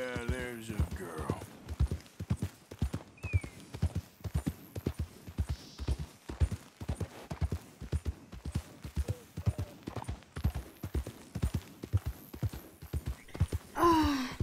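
Hooves clip-clop steadily as a horse is ridden in Red Dead Redemption 2, a fast, even rhythm that carries on throughout; a brief breathy voice and a horse snort come near the start and end.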